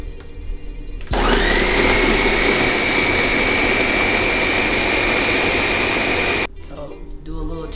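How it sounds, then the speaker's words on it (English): A blender whirs through an apple pie milkshake of ice cream, applesauce and vanilla pudding mix, a loud steady high-pitched motor whine starting abruptly and running about five seconds before cutting off, with quiet room sound around it. "We're gonna blend it up."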